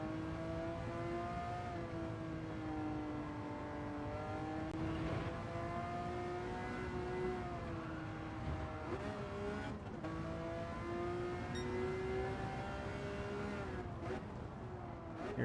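Race car engine in the Gran Turismo 7 video game, a steady loud drone with rising and falling pitch as the car accelerates and shifts through gears, a brief dip where the throttle is lifted, and no talk.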